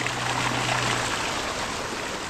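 Steady rushing water, a broad continuous hiss and wash streaming past the hull of a boat driven by a Bixpy N-3 electric motor, with a low hum briefly underneath.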